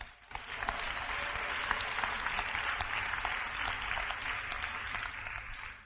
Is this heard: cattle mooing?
no